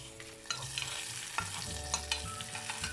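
Hot tempering for a Kerala mango pickle curry is poured over the curry with a sharp crackling sizzle, followed by steady frying hiss and a few spoon scrapes and clinks, close and fairly loud, with no talk.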